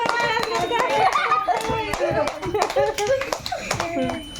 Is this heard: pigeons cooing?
no